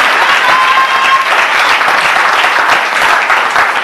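A church congregation applauds, with dense, steady clapping from many hands filling the room at a loud, even level throughout.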